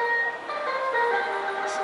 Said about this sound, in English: It's a trash day here in Arequipa, and they just keep playing the Under the Sea.